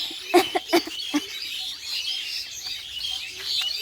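Several small birds chirp and tweet among bamboo outdoors, a few louder calls near the start followed by a steady scatter of fainter chirps in the background.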